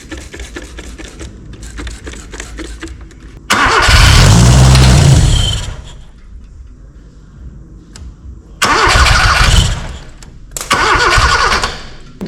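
Loud bursts of an Austin 7 engine cranking on its starter, a long churning run followed by two shorter ones, with quieter background noise between.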